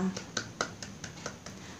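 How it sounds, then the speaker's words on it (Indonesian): A class of schoolchildren claps together in an even rhythm, about eight crisp, fairly faint claps in quick succession, with a voice heard briefly. "kita tepuk tangan untuk kita semua"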